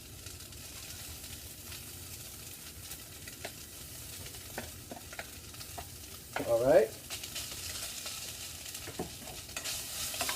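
Soft sizzling of vegetables in a pan with intermittent scraping and clinks of stirring, a brief louder clatter near the middle, and a single spoken word.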